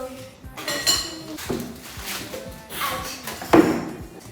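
Ceramic dishes and glassware clink and clatter as they are packed for travel, several sharp knocks and rattles in quick succession, fairly close and loud, with no talking.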